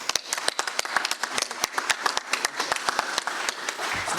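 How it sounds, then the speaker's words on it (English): Sustained round of applause at a Long Island MacArthur Airport event welcoming Cape Air's Aaron Blinker, many hands clapping in a dense, steady patter that fades slightly at the end. "please join me for a round of applause for Cape Air's Aaron Blinker"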